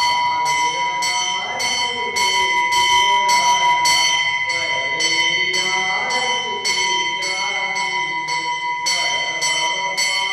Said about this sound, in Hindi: यह आरती घंट तथा शंखनाद